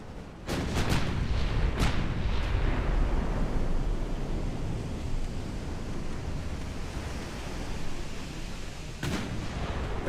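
Naval guns firing in the warship game Ultimate Admiral Dreadnoughts: a few sharp booming shots followed by a long rumbling wash of distant gunfire and sea noise, loud and sustained.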